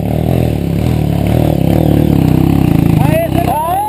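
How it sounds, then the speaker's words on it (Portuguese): A trail dirt bike motorcycle idles and revs nearby on a dirt trail, its engine buzzing with a strong, pulsing drone before easing off, with voices talking and calling out near the end. "Deixa a moto morrer."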